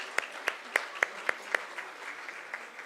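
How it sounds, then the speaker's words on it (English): A small audience at a prize ceremony for a foundation day celebration claps in about a dozen sharp, evenly spaced claps that start loud and fade toward the end. "a big round of applause"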